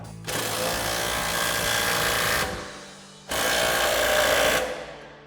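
An impact wrench with a 21mm socket tightens the lower strut mount on a 2019-2024 RAM 1500 during a suspension lift install. Two loud, close bursts of rapid hammering, each about two seconds long, are separated by a short pause.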